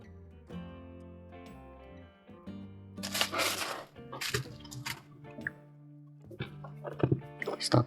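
Green cellophane packaging from an AliExpress parcel holding an engraving tool crinkles and rustles in bursts as it is handled and opened nearby, with quiet gaps and soft background tones between the crackles.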